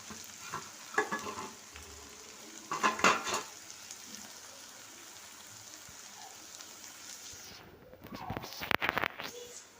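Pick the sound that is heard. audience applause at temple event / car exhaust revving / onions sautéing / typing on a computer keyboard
onions sautéing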